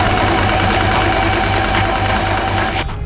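A sewing machine stitching fabric onto a thrifted dress, running as a loud, close, steady mechanical whir with a fast pulsing rhythm, then stopping abruptly just before the end.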